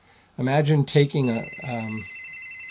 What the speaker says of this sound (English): sorry for the phone, we'll let that ring through